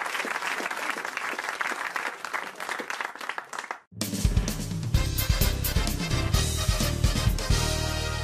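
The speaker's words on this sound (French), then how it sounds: "on vous applaudit, merci" A studio audience claps warmly for a contestant on a French radio comedy game show, with dense sustained applause that swells louder and fuller partway through and continues steadily to the end.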